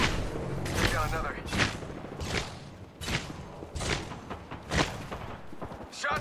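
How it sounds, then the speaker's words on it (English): Repeated bursts of gunfire in the video game Apex Legends on the Olympus map, sharp shots and booming impacts in irregular clusters, loud and close, mixed with game voice callouts. "Shots fired and they're hitting me"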